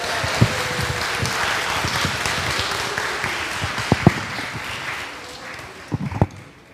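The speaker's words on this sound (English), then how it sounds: "a round of applause for everyone" A congregation claps at a Sunday worship service, a soft, steady patter of applause with a few sharper claps and knocks near and occasional brief sounds.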